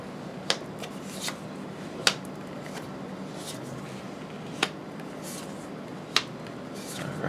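Tarot cards being shuffled in quick riffling bursts, several short crisp flutters spaced a second or two apart over a soft steady background, close by.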